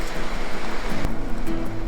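Water rushing steadily along a Colorado mountain creek, a continuous broadband wash heard close and loud, with no voices.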